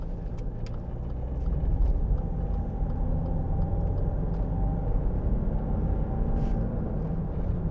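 A 2012 Land Rover Freelander 2 TD4 S diesel rumbles steadily from inside the cabin on a test drive, a low engine drone with faint road noise and a few small rattles.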